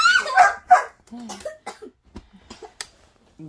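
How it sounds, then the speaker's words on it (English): A dog yelps and barks in short sharp bursts, mixed with coughing and close voices talking over it. "That's our dog Freya screaming in the background."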